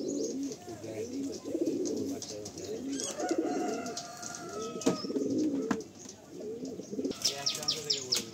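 Pigeons cooing in a crowded loft at a pigeon sale, soft repeated low coos layered with some chirps, close and continuous while someone talks over them.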